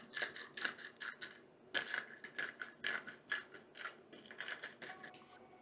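Black pepper ground in a few cranks of a pepper mill over a homemade Alfredo cheese sauce, giving a run of quick, close, crisp gritty crunching bursts with a short pause partway through.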